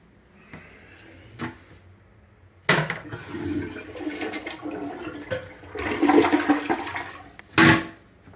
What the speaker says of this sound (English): every time you flush it, this water-saving doodad they attached clicks over